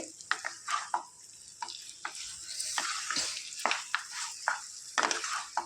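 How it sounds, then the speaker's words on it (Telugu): Chicken frying in a pan for Telangana-style chicken curry, with a steady crackling sizzle broken up by repeated sharp scrapes and knocks of a spatula as the pieces are stirred. "ఇది ఒక పది నిమిషాలు ఇట్లా ఫ్రై చేసుకుందాం ఫ్రెండ్స్ చికెన్ని"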